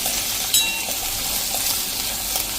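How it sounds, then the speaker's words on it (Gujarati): A cup of peas is stirred into cooked onions in a hot pan, making a steady sizzling hiss with a single metallic clink near the start and soft stirring touches, no voices. "હવે આપણે જે આ 1 કપ વટાણા એટલે કે મટર લીધા છે એને પણ આપણે નાખી દેશું અને મિક્સ કરી લેશું"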